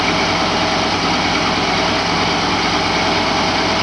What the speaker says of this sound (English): Then I'll come back here with the skid steer, grab the corn head and back it in.